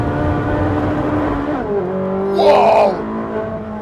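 Ferrari 458 Speciale V8 engine revving up through the gears on track, loud and steady close by, with a brief rising surge near the end and faint talk underneath.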